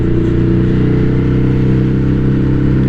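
Ducati Hypermotard 821 motorcycle with a loud aftermarket exhaust, the engine running at low revs close by, a steady, deep, throbbing rumble that holds constant throughout.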